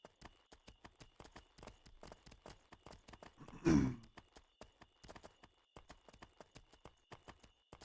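Steady clip-clop of horse hooves while riding in the MMORPG Project Gorgon, a brisk even rhythm of close hoofbeats with one louder breathy snort or whinny midway.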